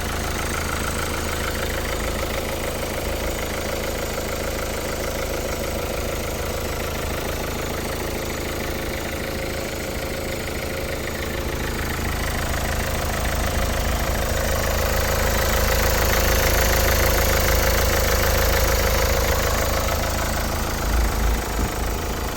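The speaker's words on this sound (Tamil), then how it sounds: "வண்டியோட இன்ஜின் நாய்ஸ் எல்லாம் கேட்டிருப்பீங்க, பார்த்துருப்பீங்க." A 2017 Nissan Sunny XL diesel car idling after a start, a steady low rumbling engine drone with a slight knocking character, close and continuous, swelling a little louder toward the end, no talk.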